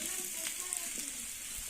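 Potatoes frying in oil, a steady close sizzle and crackle with no break, sometimes marked by small sharp pops.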